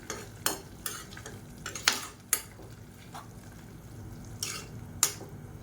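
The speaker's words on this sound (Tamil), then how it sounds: "இப்போ நல்லா கலந்து விட்டுக்கலாம்" A spoon stirs and scrapes through biryani rice in a pot, several sharp clinks and scrapes at an irregular rhythm over a low background hiss, with no talking.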